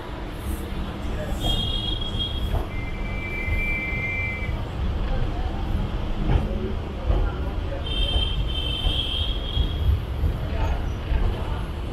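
A Chennai Beach–Tambaram EMU local train, number 40047, pulls out of Chennai Beach station with a steady broadband rumble and a few drawn-out high squeals, while crowd babble and voices carry on throughout.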